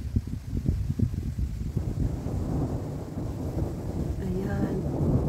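Low rumbling thunder from a lightning storm, a deep rolling growl that swells and lingers for several seconds, with wind buffeting the microphone.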